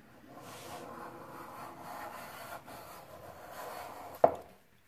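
A hand plane takes very thin shavings off wooden theorbo rib blanks, a soft continuous rasping swish over several seconds ending in a sharp wooden knock.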